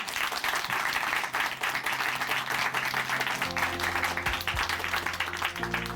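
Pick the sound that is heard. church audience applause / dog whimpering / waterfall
church audience applause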